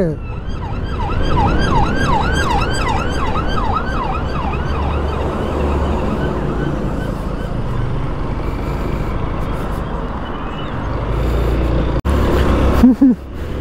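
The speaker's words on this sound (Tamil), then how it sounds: "பின்னாடி ஆம்புலன்ஸ் வருது." An ambulance siren wails on the road, a rapid rising-and-falling yelp that starts loud and fades under steady traffic and engine noise, with no talking.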